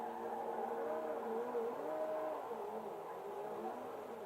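Cars race in GTA 5, engines droning and revving faintly with a few pitch swells, steady and distant throughout with no one talking.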